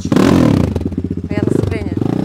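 A dirt motorcycle engine tested in gear at a muddy off-road enduro event, chugging with a rapid, pulsing exhaust beat that dips and then picks back up, close and loud, with a voice talking over it.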